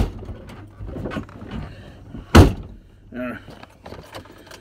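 A car door with a faulty lock is slammed shut once, a loud close thump in the middle of the clip, surrounded by people talking and faint jangling.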